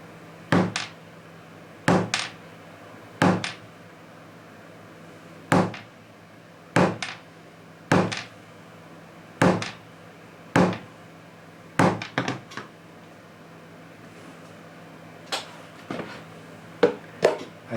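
A metal punch is struck with a hammer to cut holes through leather for a small tote, a dozen or so sharp knocks in a loose rhythm, some as quick doubled taps, close by in a quiet room.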